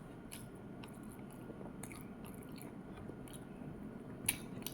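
Corned beef with rice and onion eaten by hand, close quiet chewing and soft wet bites over low background noise, with a few faint clicks and one small crisp snap.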